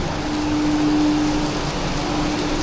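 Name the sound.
heavy rain in Siam Square, Bangkok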